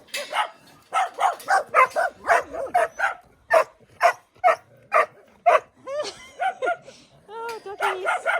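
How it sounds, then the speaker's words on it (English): Dogs bark and yip in a burst of rapid, repeated calls with a few whimpering notes, close by, somewhere in Positano on the Amalfi Coast at Christmas time. "Oh, doggies!"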